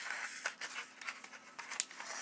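Freshly sharpened utility knife blade cutting material: a quick series of short, crisp slicing strokes, close and fairly quiet, with no talking.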